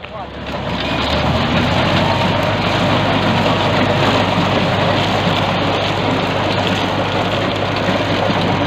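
A T-40 tractor engine running steadily while sowing soybeans in a field, a continuous close rumbling drone with broadband noise, speech over it at times.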